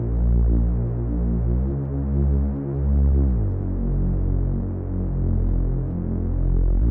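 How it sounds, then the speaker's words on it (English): A Reese bass made in FL Studio for a beat, heard as a loud, continuous, throbbing low drone with slow beating swells that shift pitch around the midpoint, playing alone without any voices. "one more thing I did add is going to be a Reese bass"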